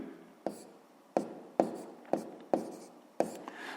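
Pen on paper writing out a sixth-grade math solution by hand, six distinct scratchy strokes spaced irregularly, close and clear with no talk.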